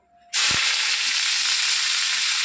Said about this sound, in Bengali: একবারেই, আলু বাঁধাকপি সব দিয়ে দিলাম।